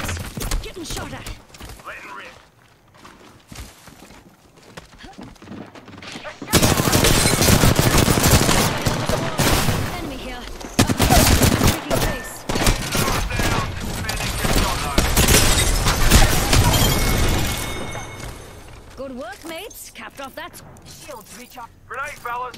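Rapid bursts of automatic gunfire in the battle royale video game Apex Legends, loud and dense through the middle of the stretch, with quieter game sounds before and after and a player talking over the action.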